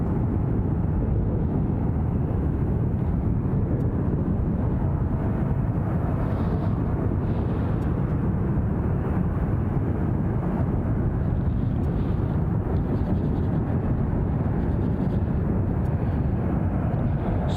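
An aircraft departing Glasgow International Airport gives a continuous broadband low rumble, steady and moderately loud, with no voices.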